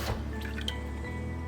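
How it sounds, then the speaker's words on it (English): Water pouring into a bowl of stir fry marinade for beef and broccoli, a short close dripping, filling splash that trails off after about a second. "I'm gonna go ahead and do a 1/2 cup of water."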